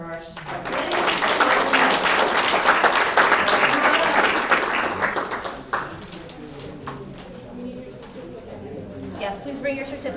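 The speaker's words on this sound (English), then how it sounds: "Another round of applause for our outstanding." An audience at a student-of-the-month award presentation claps loudly for honorees, dense applause that tails off after about five seconds into scattered claps and murmuring voices.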